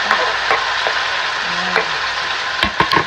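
Tomato and eggplant cook in a pan with a soft, steady sizzle, while a utensil taps and scrapes now and then as the food is stirred.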